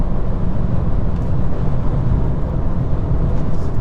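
Wind and road noise fill the cabin of a Honda Civic diesel with automatic gearbox at speed, a loud, steady low rumble and rushing hiss with no talking.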